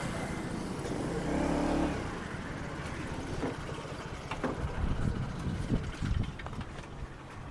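A motorbike engine rumbles steadily at close range as the bike is parked at a temple in Tirupati. The engine swells briefly and then settles into an uneven idle with small bumps and knocks.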